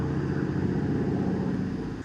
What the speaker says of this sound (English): Ooh, there's a plane.